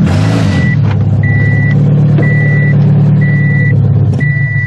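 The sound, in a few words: car being driven onto a trailer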